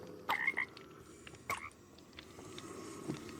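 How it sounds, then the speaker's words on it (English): Frogs croak in a video game tower level, a few short croaks sounding in separate bursts over a quiet ambient background, with no talking. "I think I'm killing the frogs when I walk past them."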